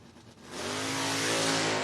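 Footbrake drag race cars launch off the starting line at a Saturday drag event, a loud rising engine roar building from a low idle into a sustained high-revving blast, heard from nearby.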